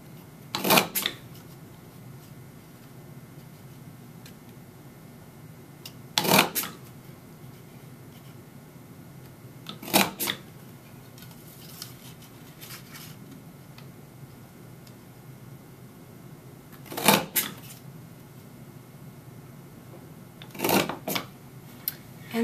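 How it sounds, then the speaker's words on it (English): An Archiver's border punch cuts paper ribbon in sharp, crisp clacks, single and double punches spaced several seconds apart over a quiet background. "you can always go back and punch it again"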